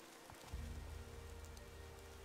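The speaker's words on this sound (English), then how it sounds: "Sadly, it's raining." Rain falling in Gothic 2, a steady hiss of drops on surfaces with a low rumbling bed, constant and moderately loud with no voices.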